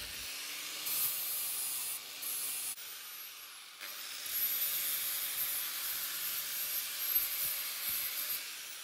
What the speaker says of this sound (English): using my angle grinder to fashion the edges how I want them and make everything smooth and nice